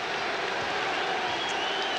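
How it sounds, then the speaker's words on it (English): Boston Celtics home crowd at a 1982 basketball game against the Seattle SuperSonics, a steady broadband roar of cheering and applause that holds even and fairly loud throughout with no clear breaks. "Boston crowd starting to heat up a little bit."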